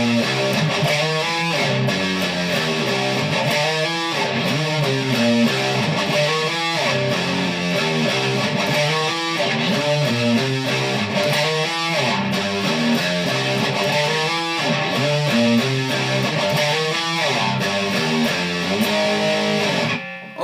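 Guitar playing the interlude of a song, a steady repeating riff of picked notes and chords that runs loud and unbroken for about twenty seconds.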